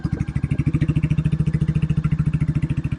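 Royal Enfield California Goan 411 motorcycle engine idling close up with a deep, bassy, steady thumping beat, even pulses throughout without talk.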